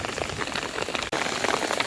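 Heavy rain pours steadily on a garden home beside a pond, a dense continuous hiss of drops on surfaces with one brief dip partway through, no voices.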